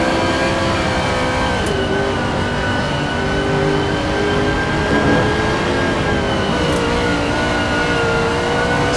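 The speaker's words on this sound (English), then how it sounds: "Salem is working the gearbox on that Bentley, really running it up to the rev limiter" A Bentley race car in a racing video game held high against its rev limiter on the Nordschleife, a loud, continuous engine drone with steady harmonics and brief gear-change dips.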